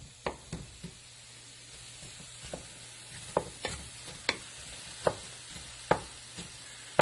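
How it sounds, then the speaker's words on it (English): Flat iron steak laid on a bed of grilling onions, a soft steady sizzle broken by repeated sharp scrapes and taps of a utensil against the cooking surface, fairly close and with no talking. "we're just going to lay the steak on top of these onions"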